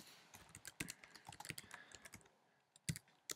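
Rapid, irregular clicking of keys on a computer keyboard as a campaign name is entered in an email marketing tool, close and clear, with a short pause before a final couple of loud keystrokes.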